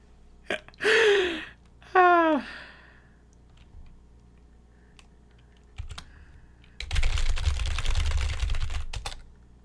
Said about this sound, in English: I do like furiously typing.